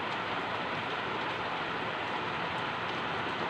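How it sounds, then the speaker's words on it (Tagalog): Heavy early-morning rain pours steadily as a dense, even hiss that fills the whole stretch without a break, close and continuous with no voices over it. "napakaulan naman. Malakas ang ulan."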